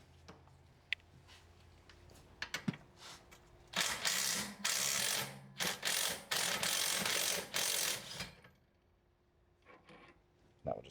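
A ratchet turns an 18 mm strut bottom bolt on a Chevrolet Sonic during a coilover install, with a few light clicks first and then several seconds of rapid, close ratcheting bursts before quiet.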